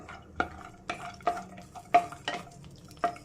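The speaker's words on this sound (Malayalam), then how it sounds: "ഇതിലേക്ക് നട്ട്സ് ഇട്ട് കൊടുക്കാം ഇതൊന്ന് റോസ്റ്റ് ചെയ്തെടുക്കണം" Mixed nuts roasting in melted ghee in a pan for a semolina dessert: a soft sizzle broken by about six scraping stirs at an uneven rhythm, close and fairly quiet, with no voices.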